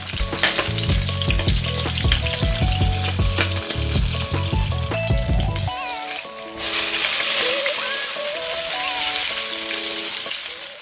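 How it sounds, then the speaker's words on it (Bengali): Potato and eggplant sizzle in a wok with five-spice seeds and green chilies, the crackle building louder partway through, while background music plays throughout. "কড়াইয়ে পাঁচ ফোড়ন আর কাঁচা লঙ্কা দিয়ে প্রথমে আলু আর বেগুনটাকে ভালো করে ভেজে নিচ্ছি"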